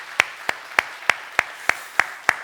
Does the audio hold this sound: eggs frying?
no